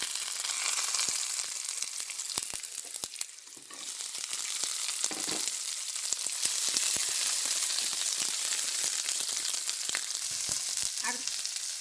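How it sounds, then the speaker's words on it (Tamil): Onion sizzles in hot oil in a pan while egg fried rice is being made, a steady, bright frying hiss with frequent scraping and clattering from stirring, heard close with no voices. "வெங்காயம் போட போகிறேன்."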